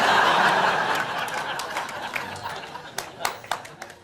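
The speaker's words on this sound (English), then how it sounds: "a lot of people were clapping along with me." An audience claps along in sharp, spaced claps that grow more distinct toward the end, mixed with chuckles and laughter while people talk.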